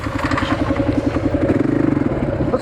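A motorbike engine chugs with a rapid, regular pulse as it rides along a forest track, close and fairly loud, with some rattling clatter over the steady throb.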